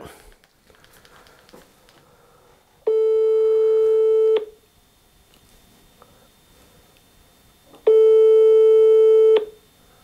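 Telephone ringback heard over a speakerphone while waiting for an answer: two long, loud steady tones separated by several seconds of quiet, with faint background sounds and some talk between them.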